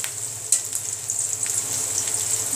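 Bay leaf, cardamom and cinnamon fry in hot oil in a pan for a vegetable dish, giving a steady, close sizzle with a brief sharp crackle near the start.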